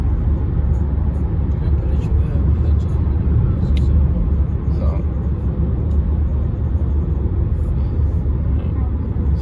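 Steady low road rumble from inside a moving car, continuous and fairly loud throughout with no clear talk over it.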